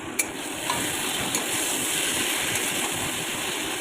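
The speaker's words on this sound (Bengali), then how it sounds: "স্বাদ মতো নুন আর একটু হলুদ দিয়ে ভালো করে ভেজে নিতে হবে।" Bombay duck fish coated in salt and turmeric frying in a pan, giving a steady, broad hiss and sizzle throughout with a few faint ticks, close and without speech.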